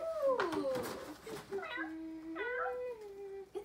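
A cat lets out a few drawn-out, wavering meows at close range. Indoor background sounds and faint movement accompany the calls.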